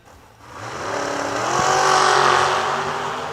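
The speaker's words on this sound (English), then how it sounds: "The OEM Combustion Service sponsored dragster." A sponsored dragster launches at a Kil-Kare drag racing event, its engine rising from a low idle into a loud, sustained roar with climbing harmonic whine as it accelerates away nearby.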